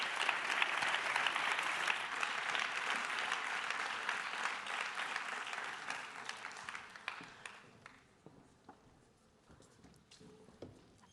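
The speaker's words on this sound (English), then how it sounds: "Please give them a round of applause." Audience applause for a climate change education panel at a conference session, steady and full for about eight seconds before thinning into scattered claps.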